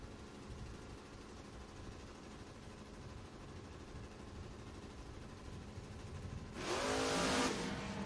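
An '86 Mustang drag car on a drag strip races in a faint, steady engine drone heard from a distance, until a sudden loud burst of roaring noise near the end.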